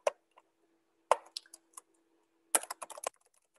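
Keys on a computer keyboard are typed in short bursts of several clicks with pauses between, close and clear with no talking over them.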